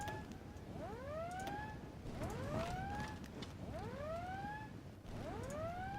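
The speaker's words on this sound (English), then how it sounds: "stop with the sirens" Sirens sounding in a strategy video game about the Ottoman Empire, four or five rising, wailing sweeps repeating at a steady pace, fairly quiet over a constant background hum.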